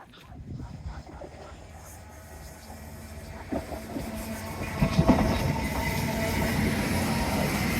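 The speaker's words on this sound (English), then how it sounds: "That's the poppy train." A train runs along a seaside seawall on a windy morning, rising from a faint distant rumble to a loud, close roar with rhythmic clickety-clack and a hiss of wind.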